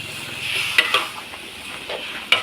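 Luffa with pork and fresh chillies sizzles steadily in a large hot pan while a utensil scrapes and clinks against the metal a few times as it is stirred.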